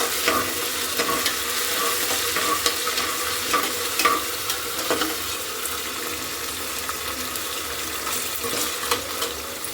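Onions fry in a pan for hotel-style chicken biryani. A dense, continuous sizzle holds at an even level, close by, with light stirring clicks and no voices.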